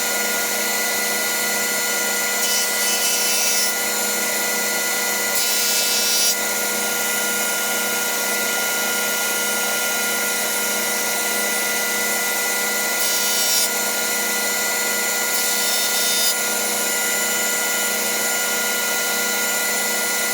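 A wood jointer runs with a steady, loud motor whine and blade hum throughout, with a few brief bursts of harsher cutting noise as a board passes over the cutter head, close and continuous.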